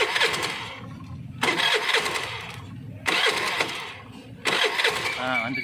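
A Honda Activa 5G scooter's self-starter cranks in three separate bursts, each a whirring churn of a couple of seconds that fails to catch, with someone talking between and over the attempts.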